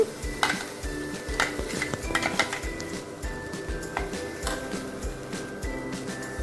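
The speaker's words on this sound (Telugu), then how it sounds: "బాదం మిక్స్చర్ అంతా మనం ప్యాన్లోకి తీసేసుకోవాలి" Almond mixture for badam halwa is stirred in a pan over a medium flame, with steady rhythmic scraping and clinking of the spoon against the pan and a faint sizzle beneath, close and clear.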